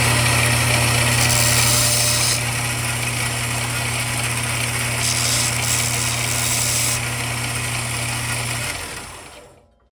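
A power tool deburring the cut end of a threaded post, a high steady whine with shifting grinding bursts that runs about nine seconds before spinning down and stopping, close and loud with no voices.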